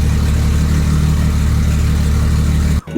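A Toyota 1JZ engine in an SC300 runs at a steady, loud idle with a dense, continuous drone, then cuts off abruptly near the end.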